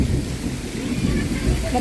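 Heavy rain pours down outdoors in a dense, continuous hiss that stays loud and steady throughout with no pauses.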